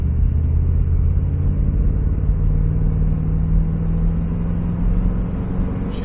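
From inside a 1966 Mercury Park Lane convertible on a test drive, a deep, loud engine rumble climbs steadily in pitch as the car accelerates, with no talk.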